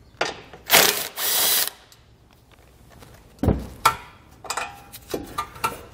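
A ratchet spins out the 13mm bumper beam bolts on a 2015 Volkswagen Golf, with two longer whirring runs early on followed by shorter close clicking bursts and knocks, and no talk.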